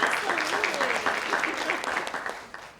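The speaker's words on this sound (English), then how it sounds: "that's worth a round of applause" A conference audience applauds with dense, lively clapping that fades toward the end, with a voice faintly mixed in.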